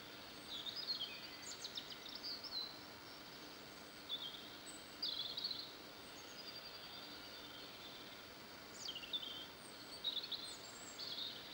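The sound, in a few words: birds singing outdoors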